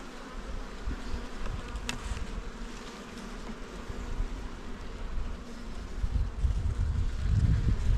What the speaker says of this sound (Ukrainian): И пчела поднялась, и мед начала носить.